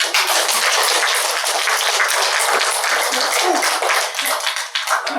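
An audience at a Buddhist Lotus Sutra lecture breaks into loud, dense, sustained applause, many hands clapping together steadily, close and full throughout.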